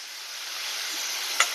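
Onion frying in a pan gives a steady, even sizzle throughout, with one brief sharp clink near the end and no voices.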